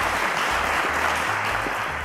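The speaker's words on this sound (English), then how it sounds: "Round of applause to Emmanuel, guys." Studio audience applause for a contestant on a televised quiz show, a thick steady wash of clapping, loud and continuous throughout.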